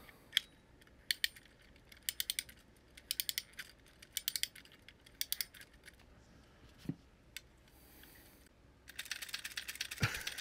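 A wind-up toy's small clockwork mechanism whirs and ratchets in bursts of rapid clicking, stopping and starting, close and fairly quiet, with a louder rattling run at the end.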